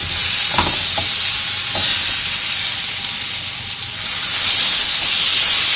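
Food fries in coconut oil in a pan, a loud steady sizzle and hiss filling the scene, with a few soft scrapes and knocks as pieces are turned over early on.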